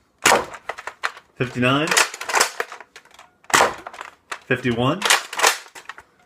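Shots fired from a modded Nerf Longstrike blaster, sharp snapping pops with springy priming clatter between them, interleaved with someone speaking.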